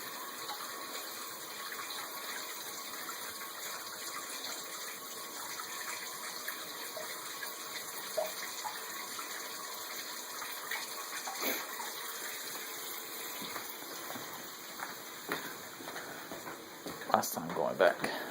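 Tap water runs steadily from a sink faucet through a Python drainer/filler used to fill a 75-gallon aquarium, a constant gushing hiss at moderate level with faint background noise throughout.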